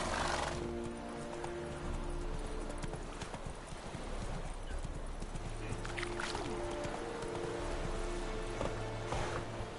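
Roach the horse gallops in The Witcher 3, a steady rapid clip-clop of hooves that runs throughout, with a whinny and ambient game music mixed beneath, fairly close and continuous.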